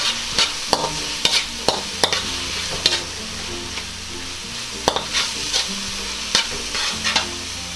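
Cabbage roll ingredients frying in a pan on a stove, a constant sizzle broken by sharp scraping and clacking strokes of a spoon stirring at an irregular rhythm, close and without talk.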